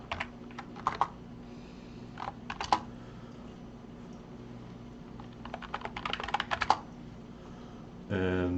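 Someone types on a computer keyboard in short irregular bursts of quick clicking keystrokes, close and fairly faint over a low steady hum, with pauses between bursts.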